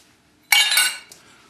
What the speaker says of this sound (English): First thing I'll do is put the oil in.